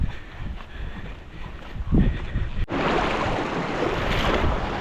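A river's rushing water roars steadily on Mount Pinatubo, Philippines, growing louder and fuller partway through, with rumbling wind-like noise underneath.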